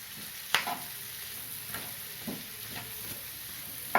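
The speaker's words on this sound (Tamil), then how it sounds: "சிவப்பு, மஞ்சள், பச்சை 3 கலரும் சேர்த்து வதக்கணும்." Red, yellow and green capsicum sautéed in a pan for chilli garlic capsicum masala, a quiet low sizzle broken by a few sharp spatula scrapes and clinks.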